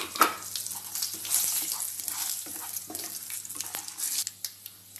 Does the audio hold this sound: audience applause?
no